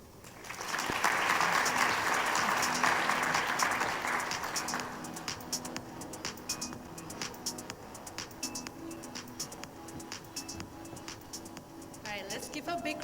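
An audience at the final round of an investment research competition awards ceremony in Thailand breaks into loud, sustained applause that swells for several seconds, then thins into scattered claps beneath a speaker's voice.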